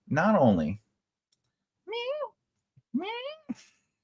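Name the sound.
cat meowing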